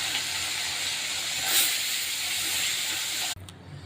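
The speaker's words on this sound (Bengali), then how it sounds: "আর যে কটা মাছ আছে এগুলো ভেজে নেব একসঙ্গে।" Parshe fish frying together in hot oil in a kadai, a loud continuous sizzling hiss that swells briefly midway, then drops sharply near the end.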